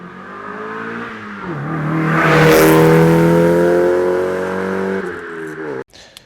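A Mazda MX-5 Mk2 engine, recently fitted with a catalytic converter, revs up steadily, its rising harmonic drone swelling louder through the middle, then settles and cuts off abruptly near the end.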